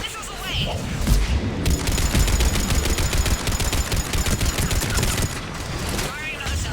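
Missile salvo fired in Mass Effect 3: a loud, rapid string of launches and bursts that runs for several seconds, with combat noise around it and speech mixed in.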